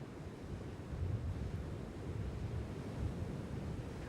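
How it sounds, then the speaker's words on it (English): Ocean waves build and break quickly on a steeply sloping beach, giving a steady, loud rushing wash of surf with some wind buffeting the microphone and no voices. "Waves travel close to a steeply sloping beach before they feel bottom. They build and break quickly at the shoreline."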